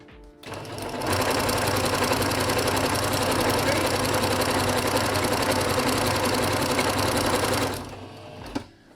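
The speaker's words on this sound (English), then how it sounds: "I just absolutely absolutely love how the walking foot just glides it through" A sewing machine fitted with a walking foot runs a zigzag stitch through fabric, a loud, steady mechanical whir that starts after about a second, holds continuously for roughly seven seconds, then stops.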